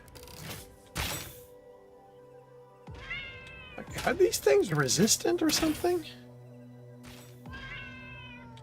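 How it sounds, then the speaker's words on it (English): Cat meows ring out in a few separate bursts, one a rapid cluster of overlapping calls, clear and fairly close, mixed with people talking and occasional thumps. "still hear two meows"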